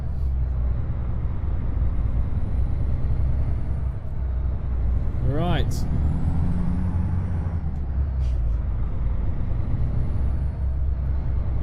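A Freightliner Argosy truck in American Truck Simulator drives with a loud, steady diesel engine drone, a rising whine as it revs through a gear change, and a short air hiss; one brief word is spoken.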